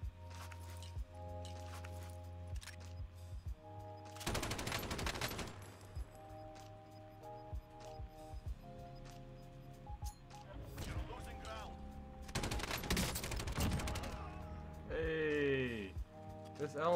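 Bursts of LMG fire in Call of Duty Warzone come as two sustained automatic volleys, loud and dense, with game effects and tones in between while a player talks over the action.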